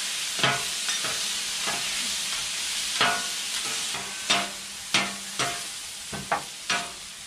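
Thin steak slices frying in oil in a pan for Philly cheesesteak, a steady close sizzle broken by repeated sharp scraping chops of a spatula breaking up the meat.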